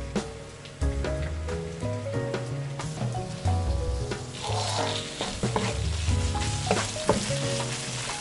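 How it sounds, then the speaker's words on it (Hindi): White onion, spices, soy sauce, vinegar and salt fry together in a pan, giving a close, steady sizzle with crackling pops over an underlying tonal backing. "दो से 3 मिनट फ्राई कर लेंगे ताकि स्पाइसेस जो है अच्छे से फ्राई हो जाए।"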